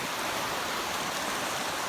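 Floodwater from a rain-swollen creek in Eastern Kentucky rushes steadily, a dense, continuous broadband roar with no breaks, heard alone without talk.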